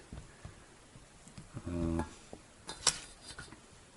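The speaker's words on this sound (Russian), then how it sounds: "Нарезаем картошку, не обязательно мелко, как получается" Potatoes being roughly cut by hand with a knife in a dugout shelter during a snowstorm on an ice fishing trip: sparse quiet taps and clicks with a short clattering burst, no talk.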